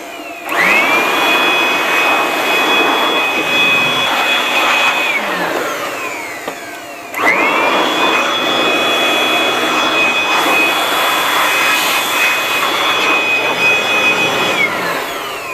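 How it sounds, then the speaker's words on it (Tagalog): An electric blower used to clean a solar panel setup whines up to a loud, steady roar, runs several seconds, cuts off, then starts and runs again, with no talking. "So kailangan na blower parati ito."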